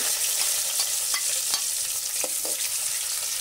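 Hot coconut oil sizzles in a pan over a wood-fired stove while a spoon stirs, with a steady crackling hiss broken by quick scraping strokes and small pops, close and fairly loud, without talking.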